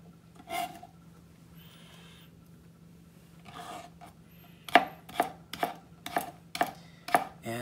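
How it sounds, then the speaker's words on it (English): A knife chops julienned vegetables on a cutting board, a few scattered cuts followed by a quick run of about eight sharp, evenly spaced knocks, close and clear with a faint background hum. "just chop them up in smaller pieces"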